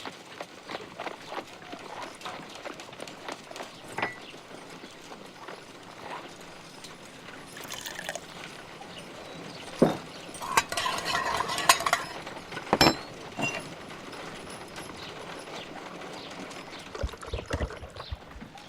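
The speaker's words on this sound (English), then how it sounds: "Half a glass of water should be enough to create a plaster solution." Water is poured and stirred into a plaster solution in a Sherlock Holmes video game, with scraping and clinking stirring strokes, splashes and clatter over a steady background bed.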